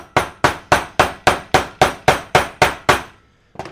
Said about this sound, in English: Taking a rubber hammer.